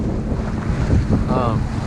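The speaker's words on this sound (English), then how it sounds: "it's super windy out here and super choppy" Steady wind buffeting the microphone over choppy water, a constant low roar with slapping waves throughout.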